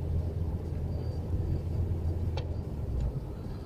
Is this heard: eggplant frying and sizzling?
no